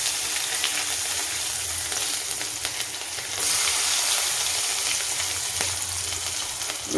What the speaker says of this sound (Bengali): কালো জিরেটা একটু ভাজা ভাজা হলে কিছু রসুন কিছু করে দিয়ে দিলাম